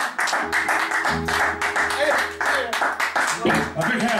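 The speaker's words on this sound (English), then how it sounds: "An applause for the band!" A live audience claps for a blues band at a small club show, the clapping bursting in uneven waves while voices shout and cheer over it.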